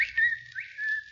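A person whistles to call Colona, a short rising and falling tune of a few clear, close notes with no talking.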